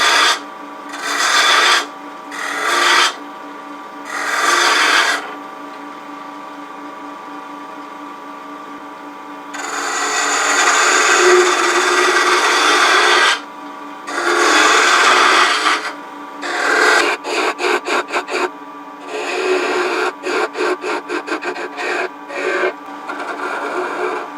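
A wood lathe turns a wooden box blank, and the tool cuts in loud rasping bursts that start and stop repeatedly, with a steady mechanical hum between the cuts.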